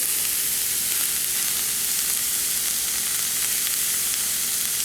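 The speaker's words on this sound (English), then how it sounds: "What we're doing this for, what we're sauteing them for, is to get them a little brown" Onions sautéing in a pan to brown them, giving a steady, close sizzle and crackle that continues unbroken throughout with no talking.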